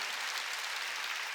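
A church congregation claps together during a Wednesday worship service, a brief burst of dense, even applause heard alone with no voices over it.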